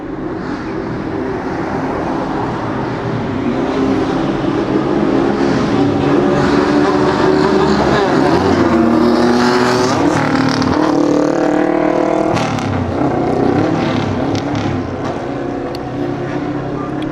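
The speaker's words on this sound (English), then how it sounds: "Let's make our motorcycles as loud as we can so that people look at us." Several loud motorcycles rev on a street in Otaru, Hokkaido, their engines rising and falling in pitch with sharp throttle blips, sustained and close throughout.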